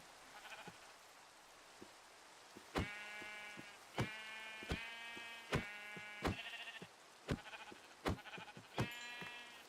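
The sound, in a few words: sheep bleating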